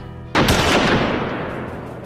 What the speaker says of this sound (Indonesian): Ia pun langsung ditembak.